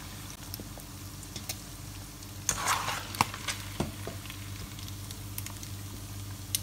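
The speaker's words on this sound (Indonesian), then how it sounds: "goreng daging ni macam inilah" Beef slices frying in a pan for rendang dendeng, with a steady soft sizzle, light stirring and a few scrapes and clinks of the utensil against the pan, close and moderately quiet, with no talking.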